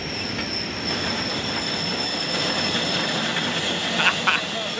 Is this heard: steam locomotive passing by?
yes